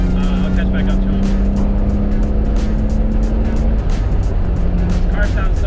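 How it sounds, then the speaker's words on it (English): A red BMW E36 M3 drives nearby on a canyon road, its engine a steady loud drone with a sustained low tone that holds, fades briefly and returns, heard alone without talk. "This car sounds so good."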